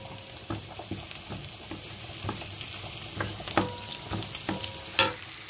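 Grated carrot frying in a pan with a steady low sizzle, broken by repeated clicks and taps of a utensil stirring against the pan; no talking.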